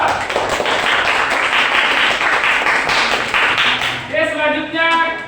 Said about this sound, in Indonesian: kasih aplaus dulu buat kelompok 2